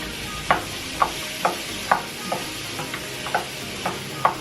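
Green beans cooking in butter in a small pan, a soft steady sizzle under a regular series of light scraping stirs about every half second, close and fairly quiet.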